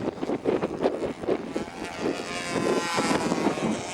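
A control-line model airplane engine at a national championship flying event, its steady buzzing drone loud and continuous with pulsing swells as the plane circles, filling the whole clip with no talk.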